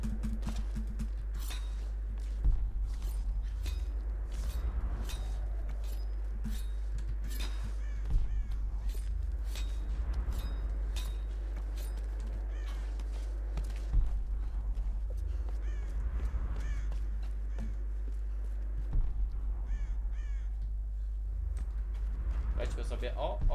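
Crows caw repeatedly in the mountain village of Tomb Raider 2013, harsh calls arriving every few seconds over a steady low game ambience, with a voice talking underneath.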